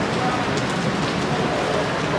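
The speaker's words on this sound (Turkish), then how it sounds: "Yağmur çok yağmıyor diyordum ben." Steady rain falls outdoors at an amateur football match, a dense continuous hiss of drops on surfaces with no clear breaks.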